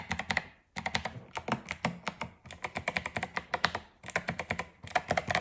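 Typing on an 8BitDo Retro mechanical keyboard, with close, crisp clicky keystrokes in quick irregular bursts and short pauses between runs, moderately loud, with no talking.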